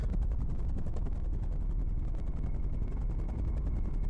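A helicopter in the video game Tower on the Borderland beats steadily with rapid, even rotor thumps over a constant loud engine roar, close and continuous throughout with no talking.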